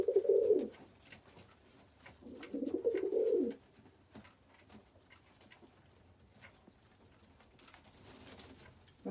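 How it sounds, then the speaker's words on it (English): A pigeon coos nearby in two soft, throaty bursts, with a fainter third toward the end, over a quiet background. "the pigeon sitting in the flare"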